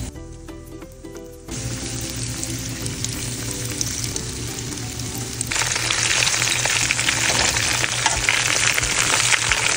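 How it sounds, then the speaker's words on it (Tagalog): Chicken wings frying in hot oil give a loud, steady sizzle that jumps in intensity partway through and keeps a dense, crackling hiss close by. "So mainit ng mantika. Fry na muna natin ating chicken wings."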